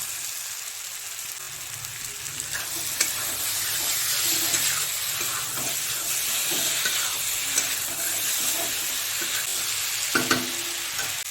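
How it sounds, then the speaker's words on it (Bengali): Fried pointed gourd goes into a cooked-down spice paste in a pan and is stirred and fried. A loud, steady sizzle runs throughout, with scattered scraping and knocking from the spatula. "এবার ভেজে রাখা পটলগুলো দিয়ে দেবো"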